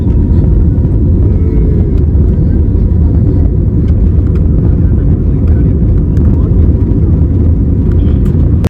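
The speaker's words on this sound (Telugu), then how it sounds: "సో ఇంకా మన ఫ్లైట్ అయితే టేక్ ఆఫ్ అవబోతుంది" A parked airliner's engines hum in a low, constant drone from inside the cabin before takeoff, steady and fairly loud throughout with no clear speech.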